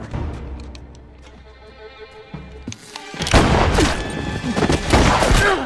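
Gunfire in a movie shootout: after a quieter stretch of muffled thumps and tones, a loud barrage of rapid shots and booms erupts and keeps going, dense and close, mixed with soundtrack noise.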